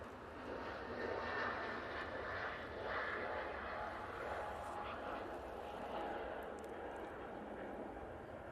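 A Ryanair Boeing 737-800 jet at Manchester Airport gives a moderate, sustained engine roar that rises and falls gently, with a voice talking faintly over it.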